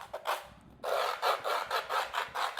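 Grip tape being rubbed along the edges of a skateboard deck, giving a close, dry rasping scrape that repeats in steady strokes about twice a second.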